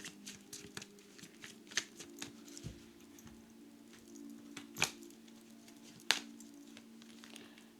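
Tarot cards are shuffled close up in a quiet room, with soft, faint riffling and scattered light taps and flicks of cards at an uneven pace, and no one speaking.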